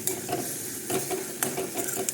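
Ginger garlic paste frying in a pan for a mushroom curry, a steady low sizzle broken by several sharp scraping stir strokes, close and fairly quiet with no talking.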